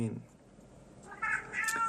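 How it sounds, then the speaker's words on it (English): A house cat meows twice, a short low call followed by a louder, higher drawn-out meow, heard close indoors. "My cat is meowing."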